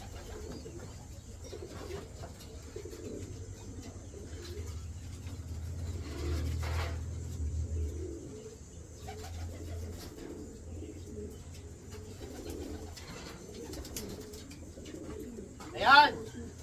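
Racing pigeons from a champion racing loft coo softly in low, continuous murmurs over a steady background hum, with a brief sharper flutter or call near the end.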